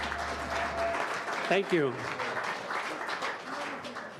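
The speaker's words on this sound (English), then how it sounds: "Let's give them another warm round of applause." A live audience at a small music venue applauds after a band's set, steady broadband clapping running throughout, with someone speaking briefly over it.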